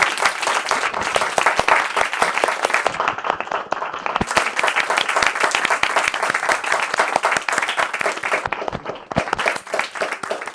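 An audience applauds at the end of a poetry event, with dense, continuous clapping from many people, close and loud, holding steady for the whole stretch with no talk.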